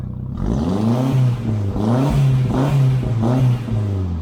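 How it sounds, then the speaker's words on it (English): A turbocharged Volkswagen Scirocco Mk1 widebody's engine revs loudly and repeatedly, its pitch rising and falling in several surging pulses, close by with no talking. "Oh, I can hear the turbo."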